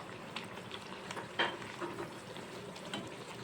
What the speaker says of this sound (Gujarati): પાણીપુરીની પૂરી આપણે ફૂલ ગેસે તરવાની છે મીડિયમ ગેસે નથી તરવાની